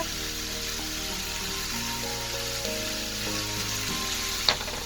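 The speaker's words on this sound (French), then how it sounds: "J'écrase bien la viande." Ground beef frying in a pan over medium heat while being mashed, a steady loud sizzle with a low background hum and one small clink near the end.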